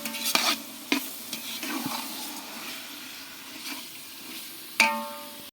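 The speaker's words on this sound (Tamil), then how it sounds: "நல்லா கிண்டுங்க." Ground spice paste for biryani is stirred in a pan, giving a series of scraping, clattering strokes over a soft sizzle, with a louder knock near the end, all close and fairly quiet.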